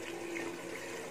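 Water runs and splashes steadily while rice is being washed for a cumin-rice chicken biryani, a close, continuous rushing sound with no voices.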